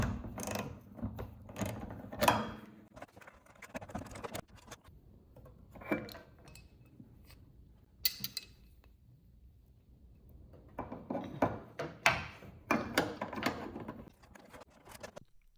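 A socket wrench adjusts garage door hinges, giving close metallic ratcheting clicks and rattles in uneven bursts with quieter pauses between them and no talking.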